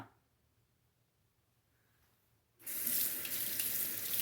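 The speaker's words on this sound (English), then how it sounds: "I'm gonna rinse off the stone really quick." Tap water suddenly gushes into a sink to rinse a Japanese natural whetstone (Jnat pocket stone) used for honing, starting loud and steady after a near-silent stretch and running continuously to the end.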